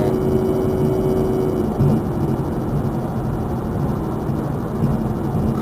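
Cabin noise from inside a 2009 Pontiac G8 GT cruising steadily, a low, even rumble of engine and road noise with a faint hum, no revving and no talking.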